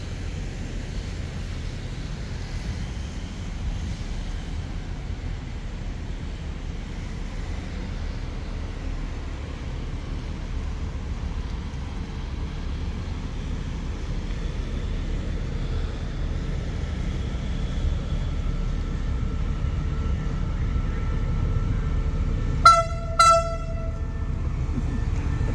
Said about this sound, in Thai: รถด่วนพิเศษทักษิณ31กำลังเข้าสถานีบ้านโป่ง